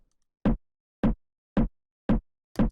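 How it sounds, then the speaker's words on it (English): Five short, punchy drum hits spaced evenly about half a second apart, each a mid-pitched tom sample strike with a quick decay, alone in silence. "Really simple, slightly mid-oriented tom sample."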